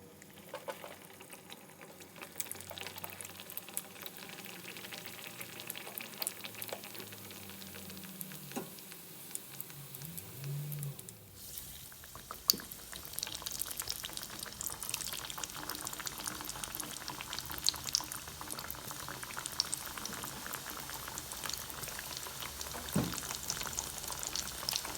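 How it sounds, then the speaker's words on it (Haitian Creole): Haitian kokiyòl dough pieces fry in hot oil, giving a steady, fairly loud sizzle and bubbling that runs throughout with small clatters and no talking. "Nous pral frit."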